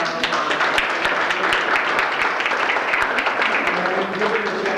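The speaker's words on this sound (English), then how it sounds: "we owe him a big round of applause." An audience at a library lunch talk breaks into applause, a dense crackle of many hands clapping at close range that holds steady for several seconds.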